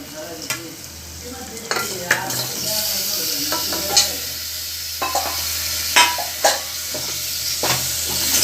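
Cleaned, cut trotters for paya soup fry in a pot while being stirred, with a continuous sizzle broken by repeated sharp clinks and scrapes of the spoon against the metal pot.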